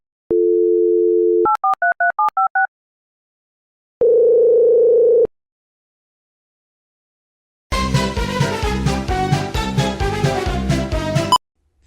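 A cell phone call produces telephone tones: a steady dial tone, a quick run of touch-tone dialing beeps, a second long tone, then a burst of music, all clean and loud without speech.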